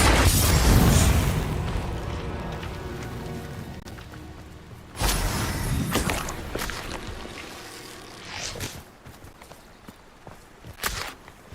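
Booming blasts and impacts from the Confringo explosion spell in Hogwarts Legacy, a loud burst at the start, another sharp hit near five seconds, then smaller thuds and crackles over continuous game sound.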